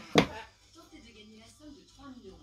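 A single sharp snip cuts through a plant stem while taking a cutting, a crisp close click followed by quiet handling and a soft voice speaking French.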